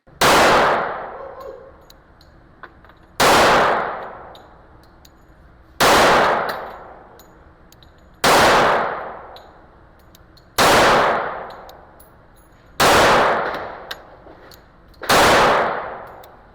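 Seven loud .45 pistol shots from a Tisas 1911 A1 firing 185 grain full metal jacket rounds, spaced about two to three seconds apart at close range, each sharp crack followed by a long ringing decay, with no talk.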